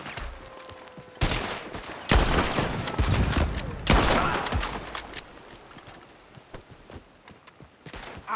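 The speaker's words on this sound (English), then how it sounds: "He's shooting!" Bursts of rapid gunfire in the video game Red Dead Redemption 2 crack loudly in several volleys, with sharp shots echoing between pauses.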